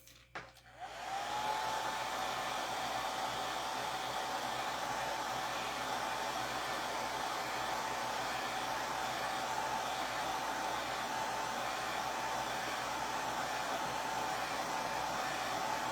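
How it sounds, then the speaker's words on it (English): A blow dryer switches on after a brief click and runs steadily with a constant whirring hiss, close and loud, with no talking. "Blow dryer."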